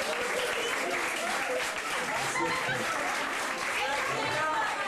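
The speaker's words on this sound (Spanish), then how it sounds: "Más aplausos, gracias." Sustained audience applause with scattered laughter at a hypnotist's stage show, dense and steady clapping filling the whole stretch without a break.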